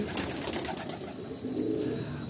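A pigeon coos near its nest of eggs inside a house, giving low, soft repeated coos close by against a noisy, rustling background.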